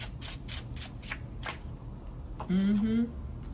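A few quick bursts of cards being shuffled up close, then a pause and a short spoken voice.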